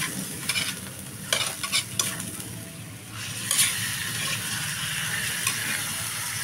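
Chicken for chicken afritada sizzles in a pan while being stirred, the scraping strokes coming in uneven bursts over a constant frying hiss close by.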